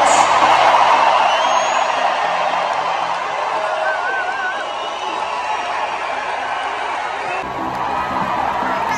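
A large audience cheers and applauds for Team GB athletes at a TV show taping, a dense roar that is loudest at the start and then holds as a steady wash of crowd noise.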